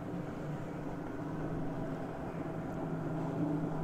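A low, steady engine drone hums in the distance, like small boats motoring across the water, with no voices.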